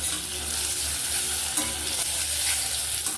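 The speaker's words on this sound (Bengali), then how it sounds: "এই যে তেল দিয়ে একটু লবণ হলুদ দিয়ে ডিমগুলো ভেজে নিচ্ছি" Eggs frying in hot oil seasoned with salt and turmeric give a steady, close sizzle with faint stirring scrapes throughout.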